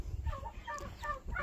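Backyard chickens cluck and murmur softly in a brief, close burst of overlapping low calls during morning chores.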